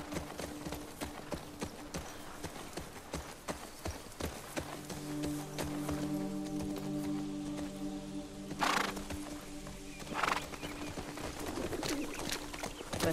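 Pigeons coo in The Last of Us Part II as a player walks into Seattle. Soft, repeated low cooing comes through the middle stretch, over clip-clopping footsteps and a couple of brief louder bursts, with faint talk.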